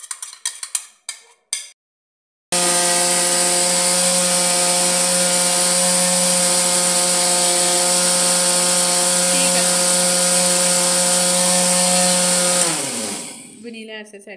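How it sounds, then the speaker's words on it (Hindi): An electric grinder runs continuously on cake ingredients, a loud steady whirring drone lasting about ten seconds before winding down, preceded by a few short knocks and clatter. "अब ग्राइंड करेंगे।"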